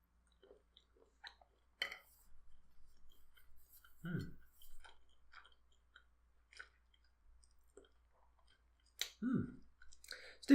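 Quiet, close chewing of Lily O'Brien's orange chocolate ganache, with sparse soft bites and small mouth clicks spread over near silence.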